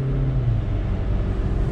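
A Mazda car drives on a wet, rainy road about 150 miles north of New York City, giving a steady cabin engine drone and a low tyre rumble with no talk.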